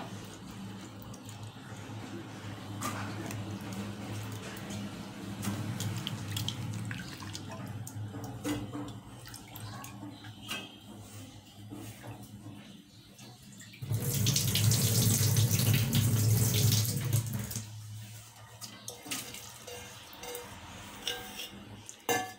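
Tap water runs while chopped vegetables are washed in a kitchen sink, a soft trickling under faint background noise that swells into a louder, fuller gush midway before easing back.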